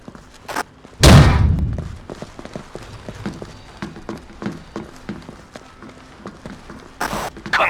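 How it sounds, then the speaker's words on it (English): A grenade goes off in the Rainbow Six 3 video game with a sharp close blast and short rumbling tail, followed by scattered thuds and footsteps, then another sharp burst near the end. "Grenade!"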